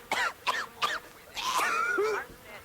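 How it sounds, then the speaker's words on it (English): Several short harsh coughs followed by a strained, croaking gagging sound, close and fairly loud. "make coughing, choking, and gagging sounds"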